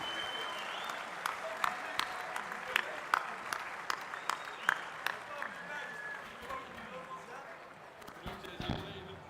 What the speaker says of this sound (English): A big round of applause for both teams.